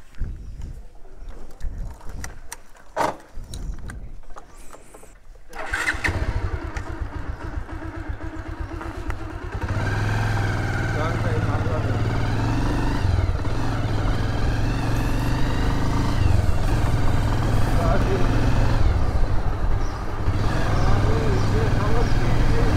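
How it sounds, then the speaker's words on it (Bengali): A motorcycle heard through an action-camera microphone is quiet at first, with light clatter, then its engine comes in, rising into a continuous, close droning hum as the ride gets under way. "তো এখন আমি বাইক নিয়ে রাইড করব, দেখি কেমন সাউন্ড হয়"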